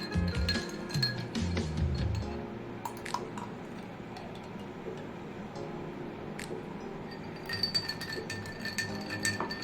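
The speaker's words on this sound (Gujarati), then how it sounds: "1 ટેબલ સ્પૂન તખમરિયા એડ કરું છું." A spoon adds soaked basil seeds to a glass of raw mango aam panna drink, giving a few bright clinks against the glass in the first seconds, then quieter faint taps.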